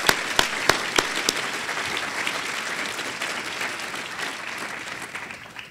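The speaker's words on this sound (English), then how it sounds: "there are a lot of my colleagues in this room who have busted their rear end for the whole industry on this, and they deserve a round of applause" An audience at a leadership award event breaks into applause for industry colleagues, with a few sharp individual claps at the start that build into sustained, full-room clapping before tapering slightly.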